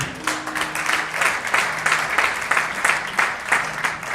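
A church congregation claps together in a steady rhythmic beat, lasting several seconds with a faint low musical hum beneath.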